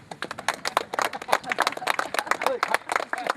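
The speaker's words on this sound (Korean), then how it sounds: "우리 박수 한번 치십시다" A small outdoor group on a feng shui site visit claps together, a brisk, dense patter of hand claps that rises and falls at moderate loudness with voices mixed in.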